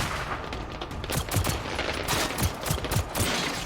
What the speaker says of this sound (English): Reload your gun before shooting